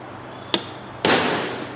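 A steel punch struck with a hammer to mark a point on wood: one light sharp tap followed by a louder, ringing blow, both close and alone.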